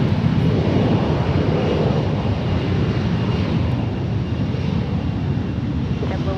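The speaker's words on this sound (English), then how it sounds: "It's Korean Airlines taxiing out." A Korean Airlines jet taxiing out at San Francisco International Airport, a continuous low engine rumble and roar with wind buffeting, steady and fairly loud throughout.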